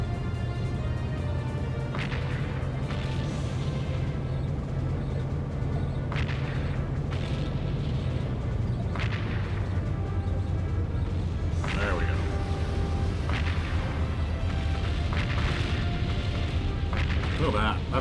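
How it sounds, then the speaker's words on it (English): Napalm explosions in the PS2 game Seek and Destroy: repeated rumbling bursts at uneven intervals over a continuous low engine drone. "That napalm really gets the job done."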